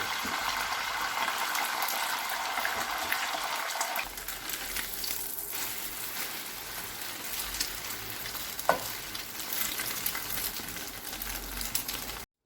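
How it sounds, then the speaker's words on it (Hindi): An egg left over from making bun kababs fries in a pan, giving a steady, close hiss and crackle of oil that runs unbroken throughout, with one sharp clink partway through. "जो अंडा बच गया अब उसे भी फ्राई कर लेंगे।"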